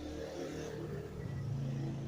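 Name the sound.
motorcycles passing on the road outside the store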